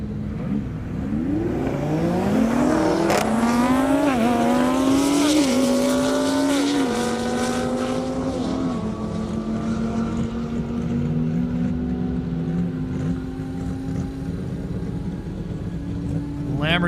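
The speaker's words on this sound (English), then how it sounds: "Lamborghini looking a little stealthy down the strip there." Lamborghini Huracan drag racing down an airport airstrip, a loud engine climbing in pitch through several quick upshifts before settling into a steady high-speed drone as it pulls away.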